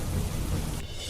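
Heavy monsoon rain pours down with a deep thunder rumble underneath, a dense close wash of rainfall that eases slightly toward the end.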